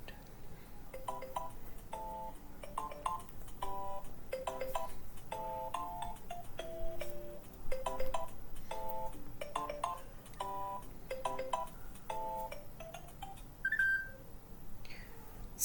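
A Kuwait 1990 emergency alert alarm plays as a repeating electronic tone melody in short stepped phrases, moderately faint and steady.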